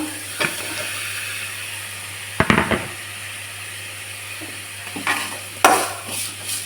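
Tomatoes sautéing with softened onions for a white potato-and-pea kurma, a low steady sizzle broken by a few sharp scraping stirs of a spoon against the pan, close by and fairly quiet, with no talking.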